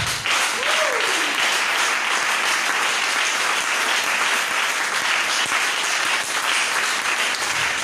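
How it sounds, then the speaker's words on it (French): Sustained, thick applause from a congregation at a divine healing seminar fills the room, with a single rising-falling vocal cry early on amid the steady clapping. "Ton acclamation montre même que tu crois."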